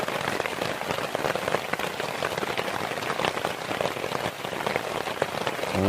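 Heavy torrential rain pounds on a mesh tent and basha overnight, a dense, unbroken patter of countless drops heard close and steady.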